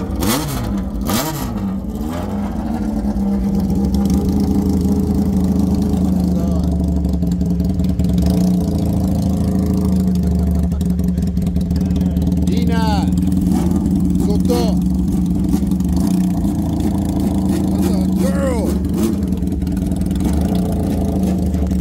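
A motorcycle engine runs steadily at idle, then rises into repeated throttle revs that climb and fall, close and loud, with people talking over it at times.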